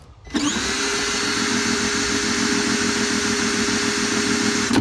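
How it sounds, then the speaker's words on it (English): A power drill whirs loudly and steadily, its motor straining with a rhythmic low churn as it spins over a small engine, starting abruptly and running for seconds. "I got my drill up here. We're gonna spin it over, see if it sparks."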